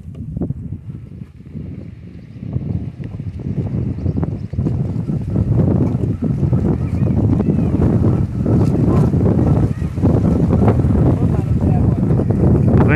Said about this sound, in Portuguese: Tá ventando, né?